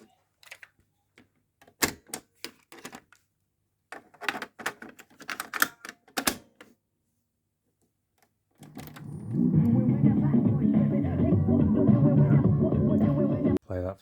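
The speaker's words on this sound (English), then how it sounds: "So let's try the tape player." A vintage Sanyo GXT 4520KL stereo tape player is handled with sharp mechanical clicks and clunks of its buttons, then begins playing loud, steady music that continues for several seconds before stopping abruptly.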